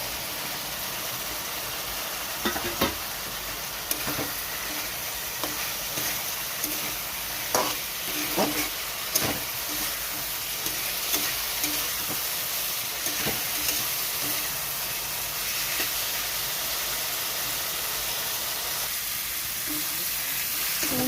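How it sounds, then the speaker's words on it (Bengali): Fried pointed gourd and potato sautéing in spice paste in a pan, a steady close sizzle and frying hiss with scattered clicks of stirring throughout. "এই মশলার মধ্যে দিয়ে দিচ্ছি পটল আলু ভেজে রাখা"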